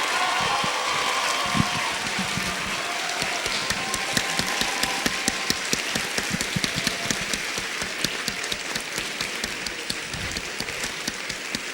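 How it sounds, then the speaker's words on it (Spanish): Dense audience applause fills a hall at a film master class, with steady clapping sustained throughout and no voices over it. "quiero que le demos un fuertísimo aplauso otra vez a Guillermo."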